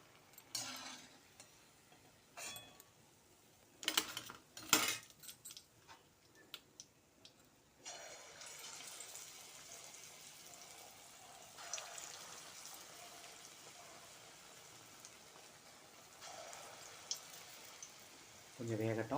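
Sundakkai vathal bajji fry in oil, a faint, rain-like crackle that steadies into a continuous sizzle after some earlier clattering, with a voice briefly present.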